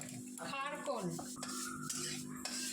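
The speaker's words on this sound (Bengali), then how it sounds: "সর্ষে দিয়ে দিয়েছি, এখন দেবো কটা শুকনো লঙ্কা।" Dried red chillies dropped into hot oil already holding mustard seeds, with metal utensils clattering and scraping against a pan and a soft sizzle beneath, close by in a home kitchen.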